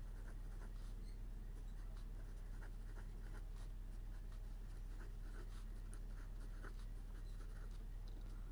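Pen or marker writes numbers during a basic maths lesson, with faint scratchy strokes in short irregular bursts over a constant low hum, and no talk.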